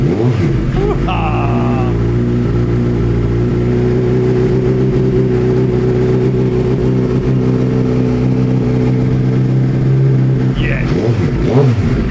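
Suzuki GSXR1000 motorcycle engine idling steadily after starting, a loud, close, even mechanical drone that holds throughout, with brief speech from people nearby.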